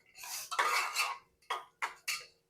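A spoon scrapes and clinks against a pan while rice is stirred and sautéed for coconut rice, in one long scraping stroke and then three short separate scrapes, close and clear with no talking.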